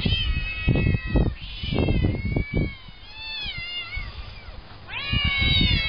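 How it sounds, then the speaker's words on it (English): Several cats meow repeatedly, loud and close, with overlapping drawn-out cries and some caterwauling, in an outdoor scene where cats gather on a rock. "What's up, cats?"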